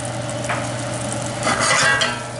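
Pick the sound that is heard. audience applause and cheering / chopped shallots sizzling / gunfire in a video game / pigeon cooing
chopped shallots sizzling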